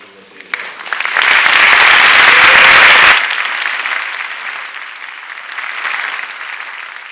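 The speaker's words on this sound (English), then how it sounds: "So we can give them a round of applause for everything that they've done." At a school district honors award night, an audience breaks into loud applause that swells and then cuts off sharply, followed by a quieter, more distant continuation of clapping.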